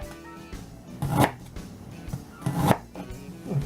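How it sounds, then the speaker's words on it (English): A knife cuts fresh ginger into thin slivers on a board, giving two short bursts of quick, close chopping taps with quieter gaps between. "I'm just going to cut this in nice little"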